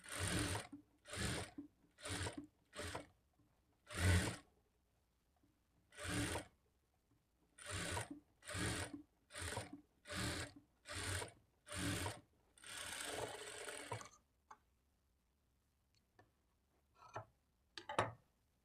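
A sewing machine stitching blouse cloth in short repeated bursts, about a dozen quick runs with brief pauses between, close and clear, ending in quiet with a few soft handling sounds.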